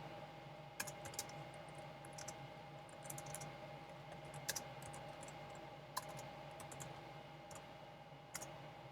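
Someone types quietly on a computer keyboard, sparse faint key clicks spread over several seconds above a steady low hum, with a few slightly louder taps.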